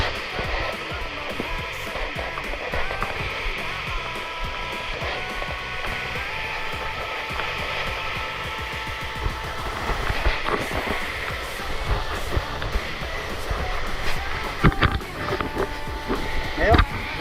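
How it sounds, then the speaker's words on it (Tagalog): A strong, continuous rush of floodwater, loud and close, with splashes surging throughout. "Ngayon, lakas ng bulusok na yan."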